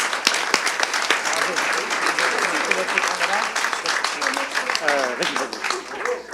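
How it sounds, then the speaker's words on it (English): An audience at an awards ceremony applauding, a loud, dense wash of clapping that holds steady throughout, with a few voices calling out over it. "A round of applause for Yuka, please."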